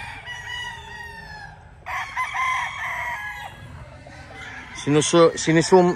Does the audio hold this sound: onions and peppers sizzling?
no